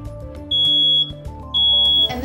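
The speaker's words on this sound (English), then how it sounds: "Project Safe just installed another smoke alarm, protecting another Sparks family." A newly installed home smoke alarm gives two long, loud, piercing beeps about a second apart, with quiet room hum between them.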